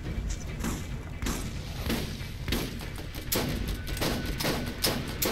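Gunfire in the video game Borderlands: dense, continuous volleys of shots with irregular bursts and heavy thumps, loud and busy throughout with a faint voice underneath.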